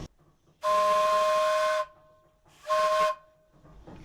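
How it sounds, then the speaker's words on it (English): Steam donkey logging engine, a wood-fired boiler steam engine at a sawmill, blowing its whistle: two loud, close, steady shrill blasts, the first about a second long and the second shorter, separated by quiet hiss. "Carries a variety of whistles on it, but back in the day really it only had one whistle for purposes of communication within the forest."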